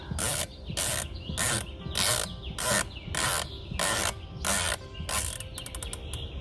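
A rifle scope's elevation turret is wound toward the top of its adjustment range, giving a long series of crisp ratcheting click bursts at a steady beat, close and loud, ending in a quicker run of separate clicks.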